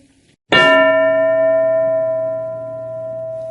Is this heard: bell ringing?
yes